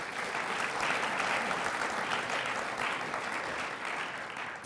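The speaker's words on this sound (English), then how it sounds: "please give them another round of applause for their great efforts." Steady, dense applause from a lecture audience at an annual research lecture event, holding at an even level throughout with no talking on top and easing slightly at the very end.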